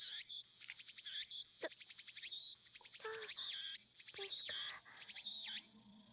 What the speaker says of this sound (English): The only sound is the chirping of the cicadas.